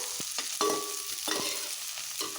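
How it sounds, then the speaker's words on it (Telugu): Onions fry in oil in a pan for a pulse curry, a steady hiss of sizzling broken by the scrape and clack of a spoon stirring several times, close and fairly loud with no talking. "ఆనియన్స్ ఇప్పుడు దీంతో మంచిగా వేగుతున్నాయి కదా"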